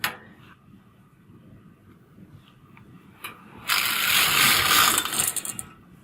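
A knitting machine carriage slides across the needle bed with a sharp mechanical clatter and ratcheting rush, loud for a couple of seconds after quieter clicks.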